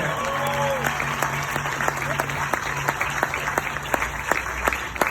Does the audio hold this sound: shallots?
no